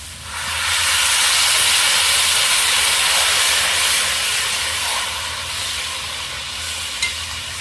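Water poured into a hot pan of fried okra and potatoes, a sudden loud, steady steam hiss and sizzle that swells right away and slowly settles, with a small clink near the end.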